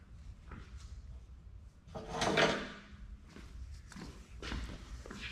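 A shipping package holding a slip roller is opened, giving one loud scraping, rustling burst midway, surrounded by quieter handling knocks and shuffles close by, with no talking.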